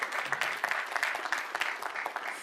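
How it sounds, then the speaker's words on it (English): An audience claps steadily in a round of applause welcoming a speaker at a conference session, dense and continuous throughout. "I would like you to give a round of applause as you welcome her."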